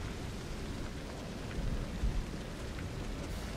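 Steady rain pours in the sci-fi shooter game Aliens: Colonial Marines, with low thunder rumbling briefly under the continuous wash of rainfall.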